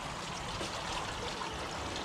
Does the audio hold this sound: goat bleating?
no